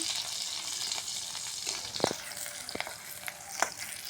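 Freshly picked ghum shak greens fry in a kadai with green chillies, garlic and onion, giving a soft, steady sizzle. A few sharp clinks and stirring scrapes sound close by.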